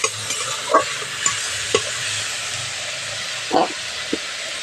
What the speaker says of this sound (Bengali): মশলা ভালো করে ভেজে নিয়েছি